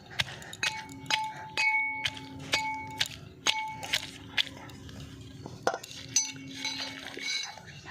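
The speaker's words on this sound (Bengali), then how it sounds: "সিদ্ধ করার পরে থেতলাচ্ছি তাড়াতাড়ি হয়ে যাবে" Boiled elephant apple (chalta) being mashed for pickle in a metal pot, with repeated sharp metallic clinks and clangs at an uneven rhythm, close and fairly loud.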